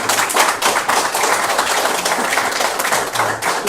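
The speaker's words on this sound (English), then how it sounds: "let's give Dr. Chen another round of applause" Steady crowd applause at a conference session, dense overlapping claps sustained throughout at a fairly loud level, with no pause.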